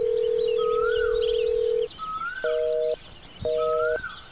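A phone call goes through: a long steady dial tone, then two short paired ringback tones separated by pauses, clear and close, with faint bird chirps in the background and no talking.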